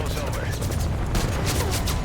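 Dense, rapid gunfire from a helicopter gunship in the video game Metal Gear Solid Ground Zeroes, loud and nearly continuous for a couple of seconds, with overlapping bursts and booms.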